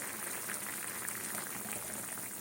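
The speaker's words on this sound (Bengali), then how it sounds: "তরকারিটা ফুটছে" Potato and soybean curry bubbles in a pan at a soft, steady simmer, a quiet continuous burbling hiss heard close with no voices.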